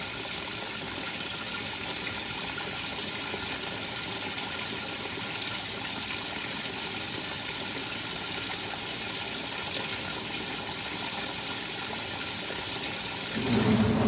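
Water gushes steadily into a Maytag MAV 8557 washer as it fills, a dense, even rush that runs unbroken for the whole stretch before a deeper surge near the end.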